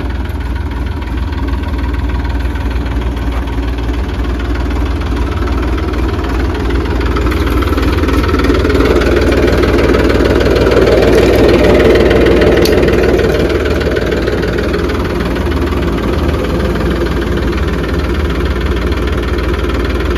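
A New Holland 3230 tractor engine runs steadily at a showroom test drive, a continuous rumbling idle that swells louder midway through before settling back, with no talking.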